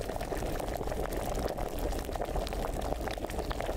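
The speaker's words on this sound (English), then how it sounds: "Keep it bubbling, it's kind of dying down." An alchemy brew bubbles at a steady boil in the medieval game Kingdom Come: Deliverance, a dense, continuous simmering gurgle heard up close with no voices.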